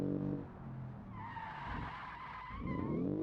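Tires skidding and squealing under braking on a recreation of the first Ford Mustang concept car in a driving video game, a sustained screech over engine noise as the rear end swings out, fading then returning.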